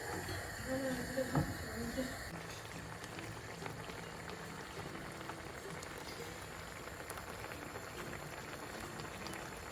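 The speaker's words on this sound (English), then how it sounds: "I'm going to just let it boil on high heat for a couple of minutes" Water boiling in a pot on high heat on a home stove while an egg masala curry is cooked, a steady soft bubbling and crackling wash running throughout at moderate level, with faint clatter near the start.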